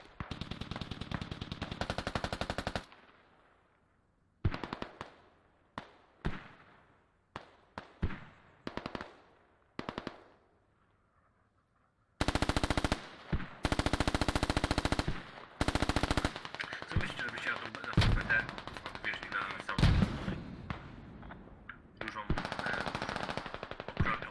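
Tactical shooter video game match on the Kokan map, with loud bursts of automatic gunfire and single shots separated by short silent gaps, some bursts long and sustained.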